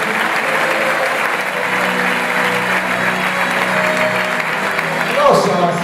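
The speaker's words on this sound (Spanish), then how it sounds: "ese aplauso fuerte al Señor" A church congregation claps loudly and continuously for several seconds, close and full, with voices calling out over the applause and a brief louder burst near the end.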